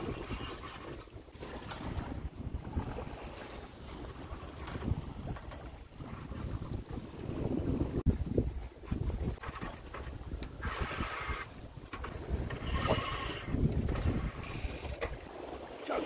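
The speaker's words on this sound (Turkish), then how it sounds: "güzel rüzgarımız var." Gusty wind buffeting the microphone over open water in the West Indian Ocean, with rushing sea and creaks of a sailboat underway, steady throughout.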